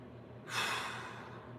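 A single big deep breath during a mobility exercise, a broad airy rush that swells quickly and then slowly fades, close to the mic over a faint steady background hum, no talking.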